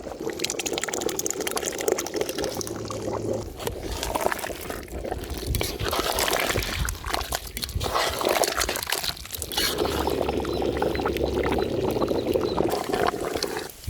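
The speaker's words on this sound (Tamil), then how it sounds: "தயிர் ஊற்றுறீங்களா தயிர்" Yogurt poured into a pot of mutton stew, a steady liquid pour and splash running through most of the stretch, close and fairly loud, with background kitchen noise.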